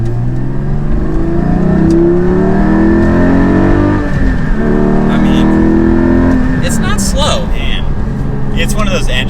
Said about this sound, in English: it's just so fun to rev this engine